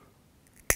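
A single crisp snip of scissors cutting wire while tying an articulated whitefish pike fly, a short, close, sudden click at the very end after near silence.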